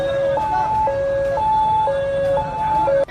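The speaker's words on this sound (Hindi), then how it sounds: "सड़कों पर एम्बुलेंस के सायरन सुनाई देने लगे।" An ambulance siren wails on the street in Uttarakhand after the Mansa Devi stampede. Its loud two-tone call switches steadily between a high and a low note about every half second, close and dominant throughout.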